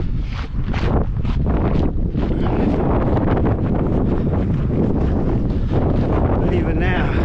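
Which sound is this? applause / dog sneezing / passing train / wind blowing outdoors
wind blowing outdoors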